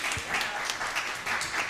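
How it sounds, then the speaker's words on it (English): Audience applause at a Porgy and Bess concert by the San Francisco Recovery Theatre at the Cadillac Hotel, a short burst of moderate clapping from a small crowd. "Yes, and applause."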